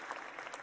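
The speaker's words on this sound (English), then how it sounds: "Come on, applause button." A brief canned applause effect, triggered by a button during a charity livestream party, plays faintly as a short wash of clapping.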